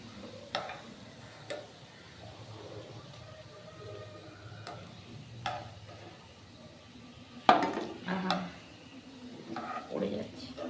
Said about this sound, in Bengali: ঝাঁঝরিতে দিয়ে দিচ্ছি, অতিরিক্ত তেলটা বেরিয়ে যায় যাতে।